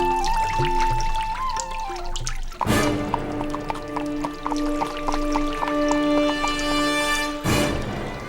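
Water trickling and dripping as an animal drinks from the Sarayu river, soft steady liquid sounds running throughout beneath loud, sustained background music with two sharp accents.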